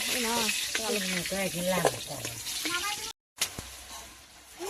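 Onion and garlic paste frying in a pan as the base for a meat dish, a steady sizzle running beneath a voice, briefly cut off before resuming.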